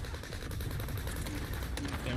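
Rapid automatic gunfire rattles in bursts during a Warzone match, fairly loud and dense, with a player's voice talking over the shots.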